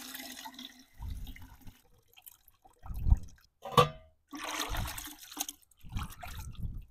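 Animal hides plunged into a liquid bark tanning solution during traditional hide tanning, giving several close, heavy sloshing and splashing bursts of water separated by short pauses.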